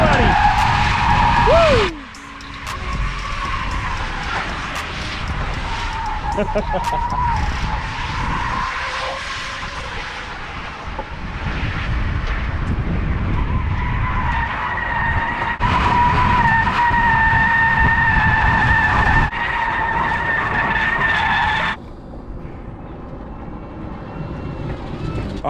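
Tire burnout from a Tesla-swapped Chevrolet C10 pickup running on its rear motor with a Quaife limited slip differential: a loud, sustained tire squeal and roar lasting over twenty seconds with shifting pitch, and a brief shout near the start.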